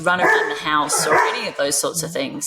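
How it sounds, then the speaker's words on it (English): A person talks steadily while dogs bark and yip in the background, with several sharp, bright bursts cutting through the speech. "I don't know if you can hear my dogs barking"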